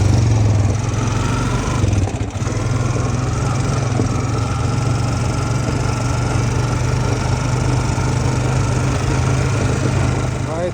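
A Honda Rancher 420 ATV engine, recently smoking heavily, idles close in a loud, steady low rumble with a rapid rough putter throughout, with a brief dip near the two-second mark.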